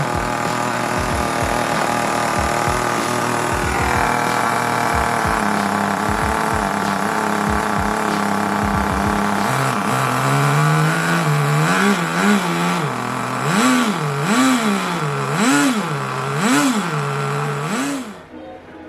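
Kyosho Neo 3.0 nitro RC car engine running on ice, a loud continuous buzzing whine that holds steady and then rises and falls in repeated revving swells toward the end, with no talk.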